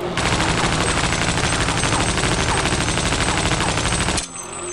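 Sustained rapid automatic gunfire aimed at a giant eye in Half-Life: Opposing Force, a dense, loud, continuous volley for about four seconds that cuts off abruptly, leaving faint game ambience.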